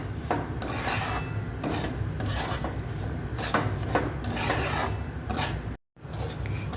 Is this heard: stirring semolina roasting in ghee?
yes